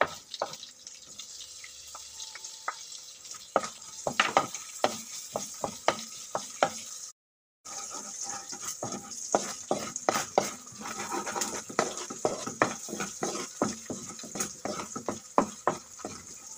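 Garlic, onion and ground pork sauté in a large pan, with a constant frying hiss and frequent sharp spatula taps and scrapes against the pan, and no one speaking.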